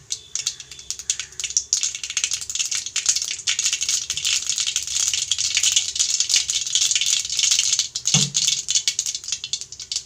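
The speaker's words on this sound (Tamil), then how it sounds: "கடுகு நல்லா பொரிஞ்சிச்சு." Mustard seeds crackling and spluttering in hot oil, a dense continuous rattle of tiny pops at steady moderate level, with one brief low thud partway through.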